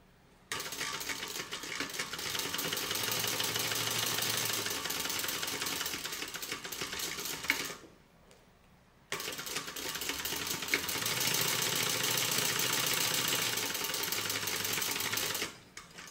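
A sewing machine runs close by, stitching keeper pieces for a tote bag in two long steady bursts with a short pause between them.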